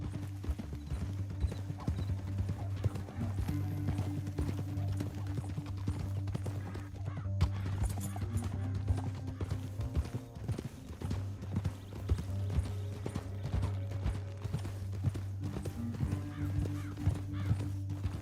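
Horse hooves clip-clop at a steady walking rhythm in the video game Red Dead Redemption 2, several horses moving together over ground with a low, droning musical score underneath and an occasional snort or whinny.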